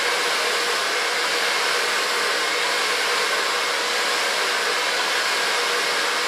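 Hair dryer blowing on a short platinum summer haircut, a steady, close whooshing roar that holds at an even level throughout, with no talking.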